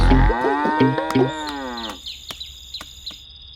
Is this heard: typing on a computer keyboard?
no